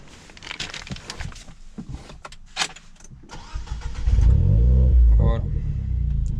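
A Renault Clio 4 RS engine cranks and fires up midway, settling into a loud, close idle with a brief rev, after rustling and handling noises at the start.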